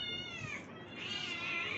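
A cat meows in a long, drawn-out wail, close and fairly loud, its pitch wavering through the middle and swelling again toward the end.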